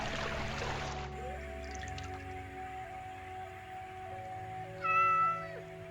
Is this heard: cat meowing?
yes